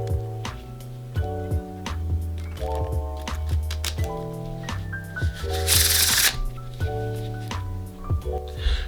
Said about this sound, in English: And there's also the one-hand table shuffle.